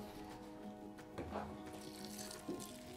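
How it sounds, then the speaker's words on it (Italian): Water running from a tap into a cooking pot in a home kitchen, a steady splashing stream with a couple of brief clatters of the pot being shifted, fairly close and without talk. "a questo punto mettiamo l'acqua"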